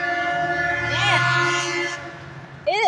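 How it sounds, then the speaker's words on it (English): A train rumbles past close by with a steady low roar, its horn sounding in long held tones and rising again sharply at the end. "That's the train."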